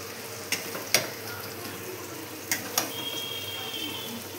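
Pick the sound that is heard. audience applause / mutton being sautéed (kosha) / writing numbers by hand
mutton being sautéed (kosha)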